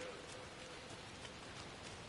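Steady, even rain hiss from the Alan Wake video game fills the scene at a low level. There are no distinct drops or thunder, and no one speaks.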